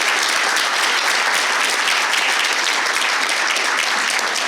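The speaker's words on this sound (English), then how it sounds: "I'd like everybody to give these guys a big round of applause." A loud, sustained round of audience applause for a panel at a yachting leadership event, many hands clapping densely and evenly with no break.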